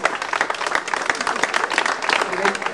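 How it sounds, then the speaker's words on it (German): Audience applause at an event in the Hotel Seedamm Plaza, dense and steady throughout, with voices mixed in under the clapping. "Ihr Applaus"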